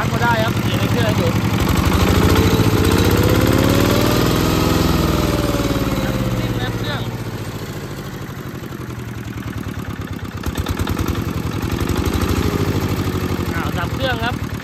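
A Yanmar 7 hp diesel tiller engine runs close by with a steady, rough knocking idle that swells and eases slightly in pitch, while someone talks over it.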